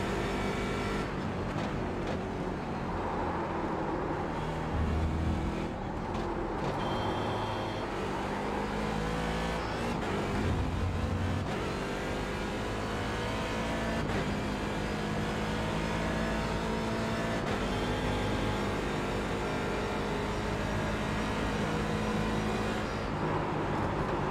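A race car engine roars through an iRacing IMSA video game session, droning continuously with rises and falls as it revs through gears and corners, with no voices over it.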